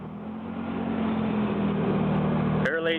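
Engine drone of a Nissan Fairlady with a double overhead cam engine driving, steady and slightly muffled as if played back from a recording, cut short at the end by a voice.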